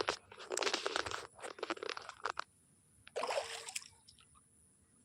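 Water pours and splashes over a body during a bath, coming in two close, noisy gushes separated by a quieter stretch with only faint trickling.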